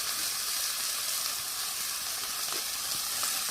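Whole green chilies fry in a pan with salt, giving a steady, close sizzle with broad hiss and faint crackles, no voices.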